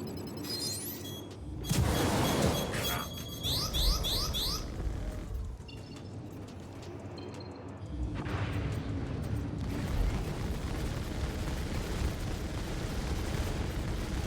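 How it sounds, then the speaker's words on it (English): A missile launch and impact in the space combat game Star Citizen: a burst of layered whooshing and rumbling blasts early on, then sustained loud engine roar and mechanical hum with no voices. "We'll missile the target."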